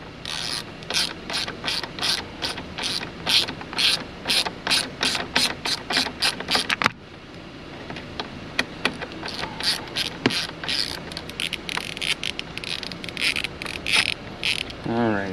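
Hand ratchet loosening a T30 Torx bolt on a Chevy Equinox seat belt pretensioner, rapid rhythmic clicking strokes close up, pausing briefly midway before more uneven ratcheting resumes.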